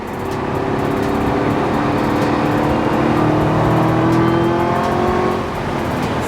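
A supercharged 2019 Chevrolet Camaro ZL1 accelerates hard, its loud, close engine roar a continuous, rising drone with strong tonal whine, heard from near the car with no talk.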